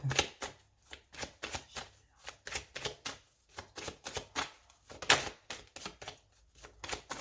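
Tarot cards shuffled and cut by hand, a rapid series of crisp riffling flutters and slaps in irregular bursts, close and fairly quiet, with no talking.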